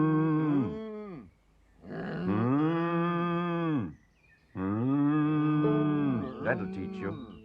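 A cow moos in three long, loud, drawn-out calls separated by short pauses, close and clear with a rich bellowing tone, in an animated children's programme setting.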